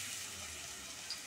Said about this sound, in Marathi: लसूण घालूया फोडणीला.